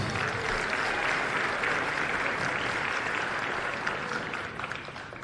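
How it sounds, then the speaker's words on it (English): A crowd at a women's college basketball semifinal between Carroll and Wheaton applauds the outstanding players, steady, full-bodied clapping across the gym that slowly thins toward the end. "Let's give all these outstanding players one more round of applause."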